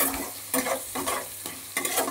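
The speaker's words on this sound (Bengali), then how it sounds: "এবার পেঁয়াজ কুচিটাকে ভেজে নিতে হবে।" Chopped onions fry in hot oil with a constant sizzle, punctuated by rhythmic stirring and scraping strokes of a spatula against the pan, close and fairly loud.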